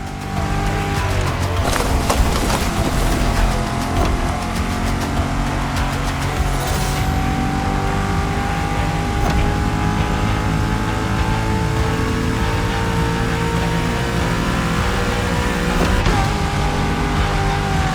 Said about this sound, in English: Now you can let the supercharged V8 do the talking.